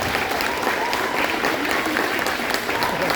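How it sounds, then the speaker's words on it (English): Loud, dense audience applause at a 5th grade school concert, honoring the co-teachers with a steady wash of many hands clapping throughout, close and continuous with no talk over it. "Can we give them a round of applause?"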